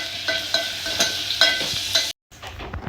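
Tomato sizzles in hot oil with onion in a pan while a spoon scrapes and stirs in regular strokes, a close, steady frying hiss, then a brief cut and quieter sizzling.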